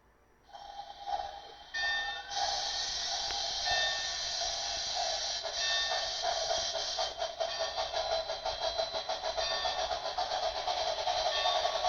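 An HO scale model train locomotive with onboard sound runs steadily with a continuous mechanical whir and hiss, bright whistle-like tones and rhythmic clatter building louder over time, no voices.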